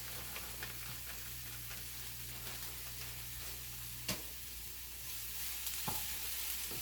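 Half a pound of cooked pork sausage frying in a pan, a soft steady sizzle with a few sharp stirring clicks and scrapes, close but quiet, no talking.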